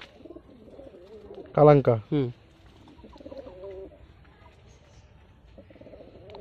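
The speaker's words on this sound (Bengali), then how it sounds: "এটা সাদা ম্যাড্রাস পায়রা। সাদা ম্যাড্রাস।" A white Madras pigeon with black eyes, newly bought and with its wing tied, gives a couple of brief loud throaty coos close by, with a voice speaking over the quieter moments before and after.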